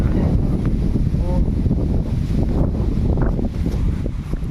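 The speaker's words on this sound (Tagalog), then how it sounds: "Grabe ang hangin ngayon." Strong wind buffeting the microphone in heavy low rumbling gusts, loud and constant, with faint background noise.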